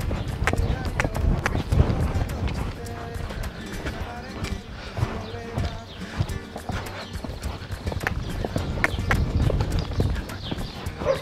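A horse gallops in repeated passes during reining sliding-stop training, its hooves clip-clopping in a quick, steady rhythm close by while a person speaks over the hoofbeats.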